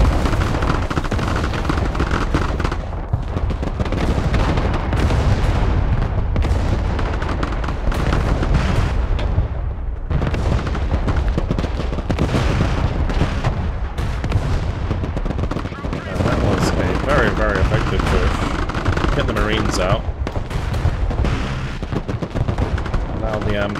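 Artillery and gunfire from the video game Broken Arrow boom and crackle continuously, with dense repeated blasts and rattling shots filling the whole stretch at a loud, steady level.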